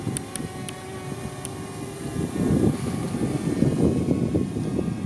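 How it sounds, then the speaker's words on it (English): A DJI Mavic Mini drone whines with a steady tonal hum that swells louder midway, heard against a faint background with a few sharp clicks near the start. "And there's the drone"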